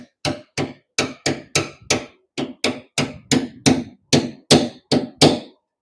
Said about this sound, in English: The last section we're going to do with a punch